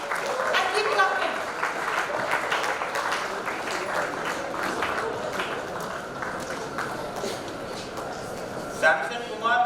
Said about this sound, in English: Students, you need to clap for your classmates.